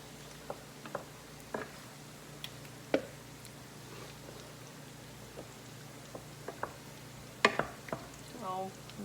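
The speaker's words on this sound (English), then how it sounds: "I'm gonna add my egg white in here and basically scramble it" Egg whites being scrambled, heard as scattered light utensil clicks and scrapes with a faint soft sizzle over a steady low hum, with no one speaking.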